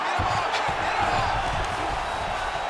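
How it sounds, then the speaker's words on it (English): An arena crowd in UFC 5 roars steadily throughout a Khabib Nurmagomedov versus Dustin Poirier bout as the fighters rise from the mat, a continuous wash of cheering with commentary-like talk over it. "huge pop from the crowd as the fighters get back up to their feet"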